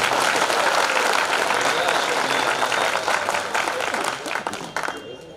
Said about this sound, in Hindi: लोग एक और कविता सुनना चाहते हैं वो एक बार जोरदार ताली बजाइए